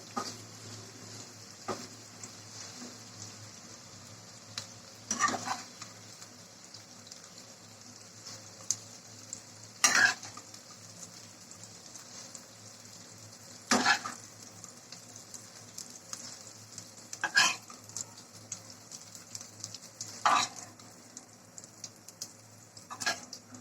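Hilsa fish fries in hot oil in a pan, sending up a steady low sizzle with occasional louder spatters and pops spaced several seconds apart.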